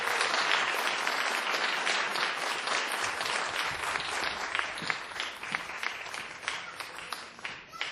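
A Sunday Assembly audience in Pittsburgh gives a speaker sustained, dense applause. The many hands clap steadily and fairly close for the whole stretch, thinning slightly near the end.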